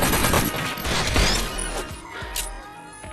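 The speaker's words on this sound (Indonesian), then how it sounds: "Chase yang menyaksikan itu langsung adu peluru dengan Luke." A gunfight in the film Lucky Day, with dense bursts of gunfire and impacts crackling over a busy action-scene mix, loud and close.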